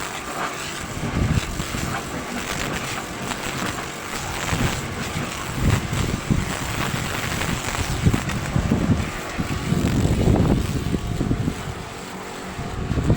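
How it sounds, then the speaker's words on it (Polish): Cold wind blows outdoors at about four degrees and buffets the microphone in uneven gusts, a rough rumbling roar that rises and falls across the whole stretch. No one speaks. "Dzisiaj zimno, wiatr wieje"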